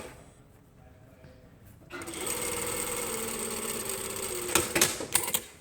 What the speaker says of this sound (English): we're just going to stitch this 6mm or a foot width